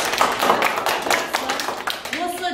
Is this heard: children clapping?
yes